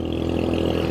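A Royal Enfield Hunter 350 motorcycle running steady while being ridden, its single-cylinder engine giving a close, loud, even thrum with a low pulsing throb.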